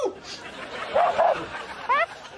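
A small dog gives a few short yipping barks, close and moderately loud, between and under the talk of people nearby.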